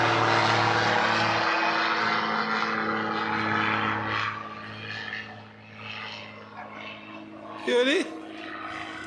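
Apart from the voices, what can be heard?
airplane flying overhead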